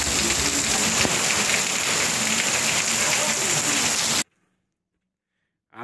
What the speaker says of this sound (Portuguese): Tá chovendo por aí